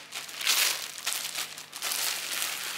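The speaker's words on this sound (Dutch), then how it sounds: "Doe ik hem in een plastic zakje." A plastic bag crinkles and rustles in bursts as a filled speculaas cake is slipped inside in a kitchen, close and moderately loud with no talking.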